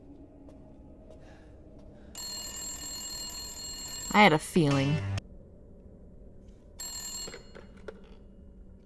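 A shrill electronic phone ring in Resident Evil Village sounds in bursts, with a short voice and a sharp chirping sound in between, over a quiet background hum.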